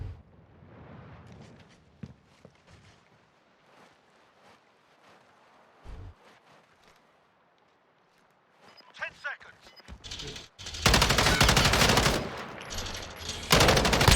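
Gunfire in Call of Duty Modern Warfare 2019, first sparse and quiet with scattered single shots, then loud sustained automatic bursts near the end, with someone talking over parts of it.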